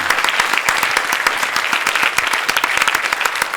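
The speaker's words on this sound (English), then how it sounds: "And so a big round of applause." A conference audience gives a big round of applause, dense and steady clapping with sharp individual claps standing out close by, sustained evenly throughout.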